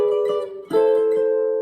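A gypsy jazz guitar in an etude plays a brief arpeggio sequencing lick: a few close plucked notes ringing out, a quick dip, then a fresh attack that sustains, heard alone.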